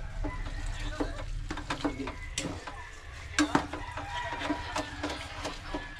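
Milk being stirred into a dish in a home kitchen, with repeated scraping stir strokes against the pot over a soft sizzle, while a rooster crows and clucks nearby in the background.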